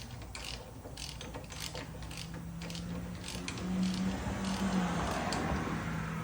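Steady ratcheting clicks come from a socket wrench on the front brake caliper bolts of a 2004–2009 Toyota Prius, close-up with a low mechanical hum underneath and no talking.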